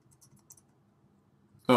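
A computer keyboard being typed on during Swift coding in Xcode: a few faint, quick keystroke clicks in near-silence, followed by a sudden loud burst at the end.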